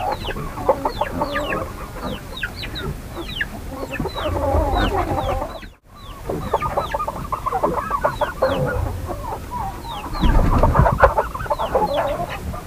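Chickens cluck steadily in a coop built above a pig pen, with many overlapping clucks and squawks close by and a rooster call among them. The sound breaks off briefly midway, then resumes just as busy.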